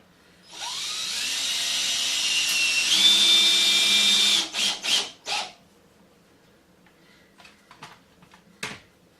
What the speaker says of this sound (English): Just go through and put a screw in every one of these mounting holes.